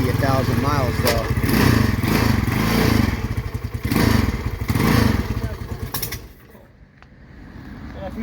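A 250cc motorcycle engine runs loud and close with a choppy, uneven beat, a grinding clutch clattering through it, then dropping away to quieter idle near the end while a voice talks over it.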